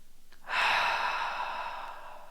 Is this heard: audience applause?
no